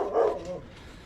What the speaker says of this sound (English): No wonder he's barking.